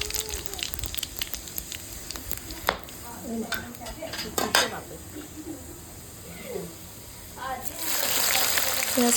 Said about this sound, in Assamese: কেৰাহীখনত তেলখিনি গৰম হোৱাৰ পাছত মই লগতে জিৰা কেইটামান আৰু তেজপাত এখিলা দি দিম।